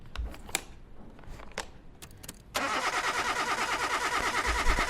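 A junkyard car engine cranks with a few sharp clicks and short bursts, then catches and runs at a loud, steady, rough idle.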